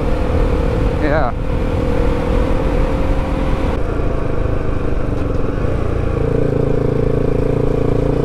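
A KTM 390 Adventure motorcycle engine drones loudly and steadily up close, its pitch shifting as it revs, with voices talking over it.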